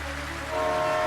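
A moving train in an AI-generated scene sounds a continuous, loud tonal horn over low rumbling, brief and alone without speech.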